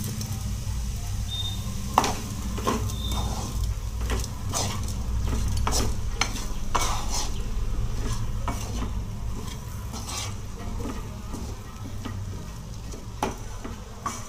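Spoon scraping and stirring cauliflower coated in masala in a pan for cauliflower gravy, repeated sharp clinks and scrapes over a low steady sizzle, close and moderately loud, with no voices.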